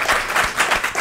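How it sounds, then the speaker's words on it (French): A TV game show studio audience claps for a contestant, a short, loud burst of lively applause with a slightly pulsing rhythm. "on l'applaudit quand même"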